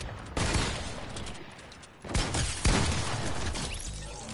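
Video game gunfire crackles in rapid bursts, with a dense volley early, a short lull, then renewed heavy firing continuing to the end, moderately loud.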